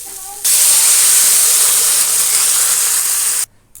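Water poured into a hot pan of fried spices and papaya for a Bengali chana dal, bursting into a loud, steady, close sizzling hiss for about three seconds before cutting off abruptly.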